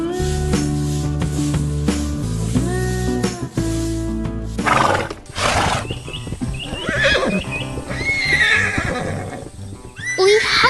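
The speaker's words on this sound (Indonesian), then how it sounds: "Lihatlah, kuda-kuda yang lucu sedang bermain di tengah lapangan hijau, berlarian dengan ceria di hari yang cerah." Horses neighing and whinnying with trotting hoofbeats in an animated farm scene on a green field, the calls loud and close over a busy, layered backdrop of other sounds.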